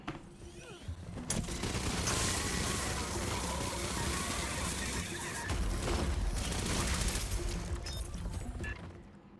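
Smartgun fire in the Aliens: Fireteam Elite video game: sustained, dense bursts of rapid automatic gunfire with heavy booming impacts that keep going for most of the stretch, loud and close, with faint voice-like sounds underneath.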